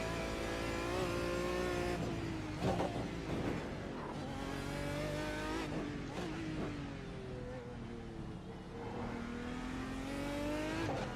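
Aston Martin DBR9 GT1 race car in the iRacing sim, its engine roaring loudly throughout with rising and falling revs through gear changes and brief tire squeal, heard alone.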